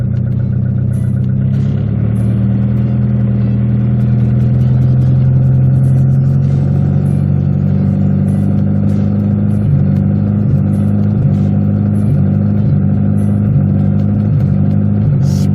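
A turbocharged Honda Civic with a D16Z6 engine revs under gentle throttle, its tone stepping up and settling back in several uneven surges, loud and close, with light clattering ticks recurring throughout.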